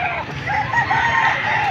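A rooster crows loudly and close at a chicken sale in Padre Garcia, Batangas, its drawn-out call ringing over a murmur of market noise.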